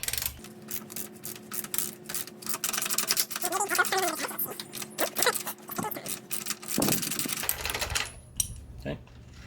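A wrench works a 27 mm nut loose on a motorcycle engine mount, with quick ratcheting clicks and metallic clinks in uneven bursts and a steady faint hum underneath.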